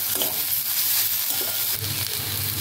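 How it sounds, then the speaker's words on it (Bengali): Radish greens fry in a pan while a spatula presses and stirs them, giving a loud, continuous sizzle with soft scraping pulses close by and no voices. "মূলো শাকটাকে কিন্তু আমি ভালো করে এইভাবে খুন্তি দিয়ে ঠেসে ঠেসে ভেজে নেব"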